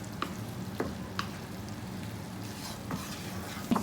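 Cooked pork being stirred into a thick, spicy Kerala pork roast gravy in a pan: a few soft scraping strokes over a steady low sizzle, close by, with no talking.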